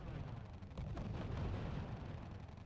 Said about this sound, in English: ISU shooting again at the supply depot. Is he gonna take it down?